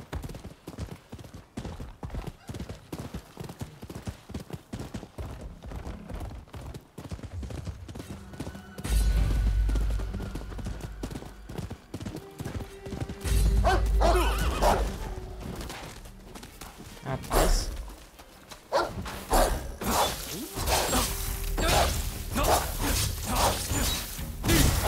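A horse gallops and neighs in the video game Rise of the Ronin. Rhythmic hoof clip-clop runs throughout, joined by heavy thumps and crashing bursts that grow louder in the second half, with brief whinnies mixed in.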